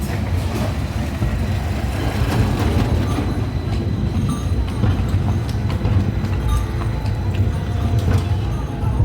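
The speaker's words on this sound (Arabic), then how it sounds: "وادي الترام الجديد." A new tram rumbles past close by in Alexandria, Egypt, a steady rolling roar with faint clicks and squeaks over wide background noise, no talking.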